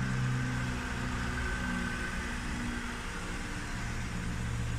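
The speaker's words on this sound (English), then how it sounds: "The engine is running as we speak" A 2011 Nissan Murano CrossCabriolet in beautiful condition, engine running quiet and smooth, a steady low idle hum that holds even and alone throughout.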